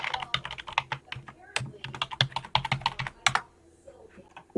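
Rapid keystrokes on a computer keyboard as a username and password are typed, a quick irregular run of sharp clicks that stops near the end.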